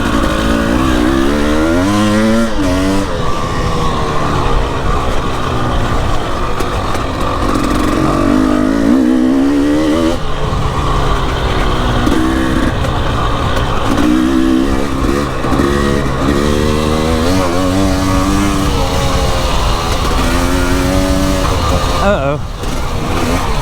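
Enduro motorcycle engine revving hard and rising and falling in pitch as it is ridden around a muddy track at a rain-soaked slip-and-slide enduro event, loud and continuous under a rider's speech.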